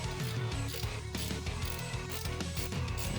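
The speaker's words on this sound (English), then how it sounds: "Just tightening the 3 bolts now to the Navitas motor." Ratchet cranking in rapid clicking bursts while the three bolts holding an EZGO Navitas AC golf cart motor are drawn tight, close and steady with no talk.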